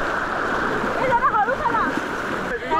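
Loud rushing river water and splashing as people wade waist-deep across a forceful river on a jungle trek at Adrai, with people talking close over the water.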